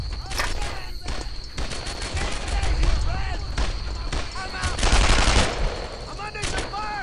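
Rapid bursts of gunfire and scattered single shots fill a World War II firefight in the video game Brothers In Arms: Earned in Blood, loud and nearly continuous, with shouted voices breaking in among the shots.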